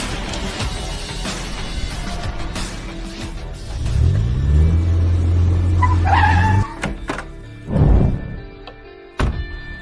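A car pulls up in front of a luxury hotel, with a low engine hum rising and settling, followed by door thunks and brief rustling near the end.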